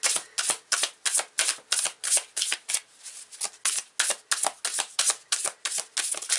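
A tarot card deck being riffled and shuffled in quick repeated bursts, crisp papery flutters in a steady rhythm, close and fairly loud with no talking.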